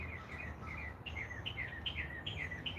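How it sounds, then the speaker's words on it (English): Short, repeated bird chirps at a steady, quick rhythm over a dense low rumble of background noise, fairly faint and with no talking. "I wonder what kind of bird that is."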